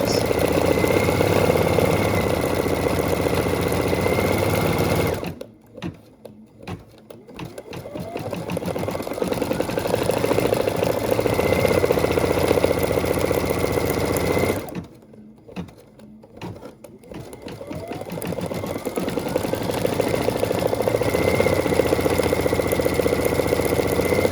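A Brother Essence VM5200 embroidery machine stitches a Christmas design with a steady, close, rapid mechanical whir, broken by two brief pauses before it starts up again.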